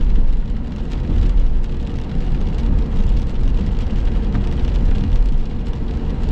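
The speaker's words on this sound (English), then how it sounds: "I don't know how long this rain's supposed to last" Steady rain pours down in McCook, Nebraska, with a dense, continuous hiss and patter, loud and unbroken, no voices.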